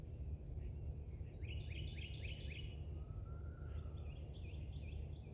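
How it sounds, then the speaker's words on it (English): Birds chirp and trill outdoors in the early morning near a corn field, several bright calls and quick repeated phrases over a low steady rumble, fairly faint and distant with no talk. "I love when I'm out this early because you can hear all the birds"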